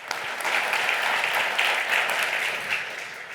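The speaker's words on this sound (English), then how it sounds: "let's give our panelists a round of applause" A conference audience at an energy transition panel gives the panelists a round of applause, a full, continuous burst of many hands clapping that swells slightly in the middle and carries on without speech.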